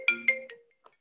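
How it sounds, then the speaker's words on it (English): A mobile phone ringtone plays two bright electronic chime bursts followed by a shorter tone, then a faint blip as it cuts off, clear and alone with no talking. "Oh, I'm sorry, my phone's ringing."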